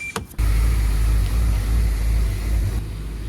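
A BMW M5 E60 engine starts and settles into a loud, low rumbling idle close by, steady throughout.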